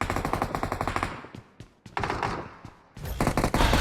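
Bursts of automatic gunfire from squad teammates in a battle royale video game, rapid loud volleys with short pauses, one brief gap before a final dense burst.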